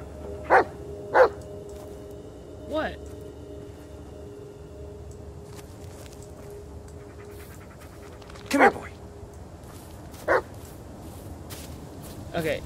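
A dog in the video game Blair Witch barks in several sharp, separate bursts, two close together early and more later, over a quiet low ambient bed, with faint panting between.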